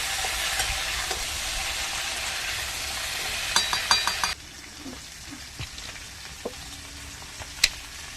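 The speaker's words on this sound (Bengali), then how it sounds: "এবার ভাজবো।" Potato, taro and papaya pieces fry for shukto in an oily pan with a loud, steady sizzle. Spatula clinks mark the stirring, and then the hiss drops to a quieter crackle with occasional taps against the pan.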